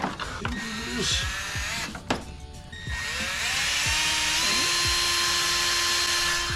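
A power drill whirs steadily while boring into plastic, with a brief stutter partway through before the motor settles into a continuous high whine.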